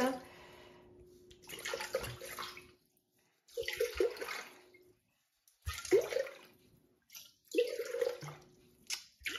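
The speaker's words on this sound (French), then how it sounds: "Donc là je mets 500 g d'eau dans le bol." Water being poured into a Thermomix bowl, 500 g measured in for gluten-free bread dough: several bursts of splashing pour separated by short pauses, fairly close, with a voice speaking between pours.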